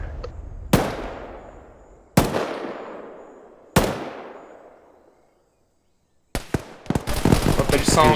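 Gunfire in the video game Arma 3: three loud, sharp single shots spaced more than a second apart, each with a long echoing decay, then a short pause and a rapid volley of shots with talk underneath.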